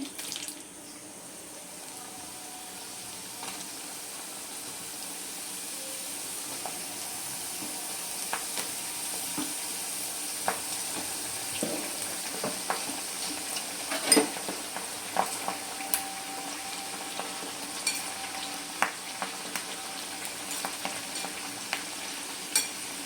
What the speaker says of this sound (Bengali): বাকি চিপসগুলোও আমি ঠিক একই প্রসেসে ভেজে নিচ্ছি।